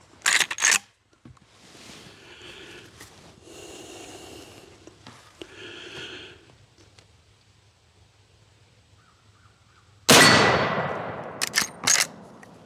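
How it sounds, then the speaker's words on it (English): A Marlin 1895 Guide Gun in 45-70 firing a Federal Premium load at steel: a sharp loud blast near the end followed by quick ringing impacts, after earlier scattered clanks and quiet stretches of outdoor background. "I'm going to put one shot on steel and see if where I am with these Federal Premium loads."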